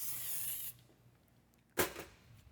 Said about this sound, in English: I'll just add a little more of my baking spray here